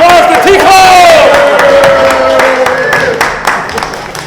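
A crowd at a morning song concert cheers loudly for a bass player with whoops and shouted voices, then settles into scattered clapping that fades toward the end.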